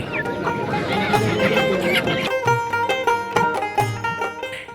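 Domestic chickens and ducks clucking amid the busy bustle of a traditional rural village market in Narsingdi, Bangladesh, with bird calls and crowd noise layered together throughout.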